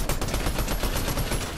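Rapid gunfire from a video game shooter, dense and loud, with overlapping shots crackling steadily through the whole burst and no talking over it.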